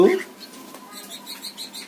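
Domestic cockatiels, resting during cold, rainy weather, give a string of soft, high chirps close by, repeated in short bursts after a brief opening noise.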